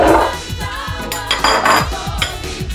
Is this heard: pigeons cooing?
no